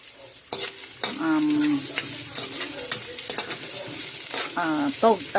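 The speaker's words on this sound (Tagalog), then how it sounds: "nagigisa muna ako ng bawang sibuyas para sa ginagawa kong" Garlic and onion sizzle and fry in a pan while being stirred, with scraping strokes over a constant crackle, close and fairly loud; brief high tones sound now and then.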